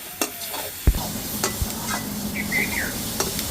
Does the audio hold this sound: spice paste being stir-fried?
yes